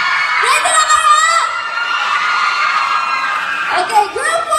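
A concert crowd screams and cheers loudly, sustained high-pitched shrieks and whoops rising and swelling close by, with a fresh burst of screaming near the end.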